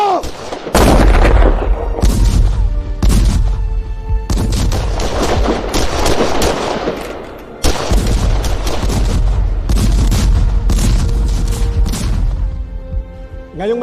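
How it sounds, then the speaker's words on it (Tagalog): Cannon fire from a historical battle reenactment during the Philippine revolution, booming repeatedly in a loud, dense barrage with overlapping blasts and rumbling echoes, near and sustained with brief gaps between volleys, voices faintly shouting beneath. "Tutok ang mga kanyon sa mga kalaban!"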